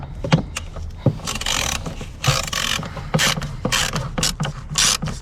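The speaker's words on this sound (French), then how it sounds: "vous allez prendre une Torx de 20 et vous avez 4 vis à dévisser" Ratchet clicking as Torx 20 screws are undone on a Renault Kangoo 1.9 D engine, close and fairly loud, short ratcheting bursts alternating with sharp knocks in an uneven rhythm, no talking.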